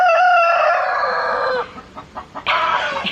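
A rooster crows loudly and close by in a chicken barn. One long, strained call breaks into a few raspy, wheezy gasps, then a final higher squawk.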